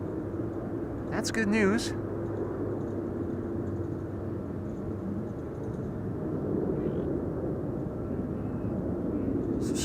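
A DHL cargo plane approaches at Amsterdam Schiphol as a steady, distant low rumble, while a person speaks briefly over it.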